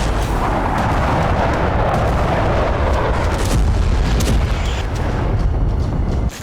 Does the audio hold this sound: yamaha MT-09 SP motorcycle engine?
no